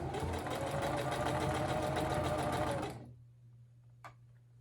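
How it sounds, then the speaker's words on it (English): A sewing machine stitches around a fabric hair scrunchie, running in a steady, dense mechanical whir close by for about three seconds before stopping abruptly, leaving a low hum and a single faint click. "Now I'm just going to stitch all the way around my hair scrunchie"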